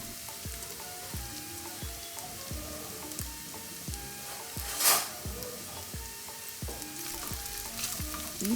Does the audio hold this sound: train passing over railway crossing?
no